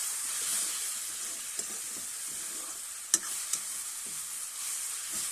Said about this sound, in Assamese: এতিয়া আকৌ এবাৰ ভালদৰে লৰাই দিছোঁ।